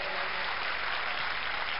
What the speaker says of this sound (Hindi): एक बार जोरदार तालियों से राजू श्रीवास्तव जी को बधाई दें